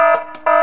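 A loud, steady electronic alarm tone from the Five Nights at Smash Bros 3 video game sounds in two bursts, dipping briefly between them, with no talk over it.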